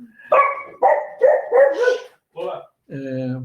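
A dog barks close by in a rapid series of loud, yelping barks, followed by a shorter bark and then a drawn-out whine, all heard clearly with nothing else over it.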